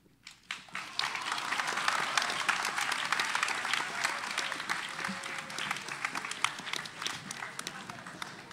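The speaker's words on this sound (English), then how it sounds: "give them a big round of applause" Applause from a school audience after a spoken word performance at a grade 11/12 competition, sustained dense clapping that swells quickly and holds steady for several seconds, with faint voices mixed in.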